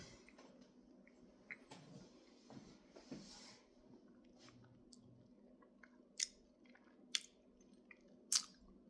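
Someone eating a spoonful of McDonald's Nether Flame Sauce, with quiet close chewing and soft wet mouth sounds, then a few sharp crunchy clicks near the end.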